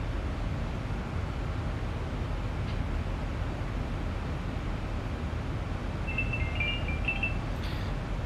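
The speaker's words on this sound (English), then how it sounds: "My phone's ringing." A phone rings faintly in a short series of electronic beeps over a steady, broadband background hum.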